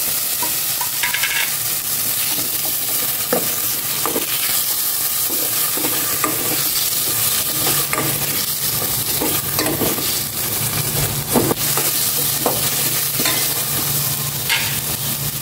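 Garlic, onion, tomato and chili are sautéed in a pan with a loud, steady sizzle. A utensil scrapes and stirs through the food at irregular intervals.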